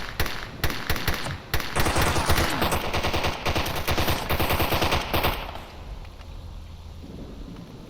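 Rapid automatic gunfire in the shooter game S.T.A.L.K.E.R. Anomaly 1.5.2, loud sustained bursts of many shots for about five seconds, then fading into a quieter rumbling tail with no talk.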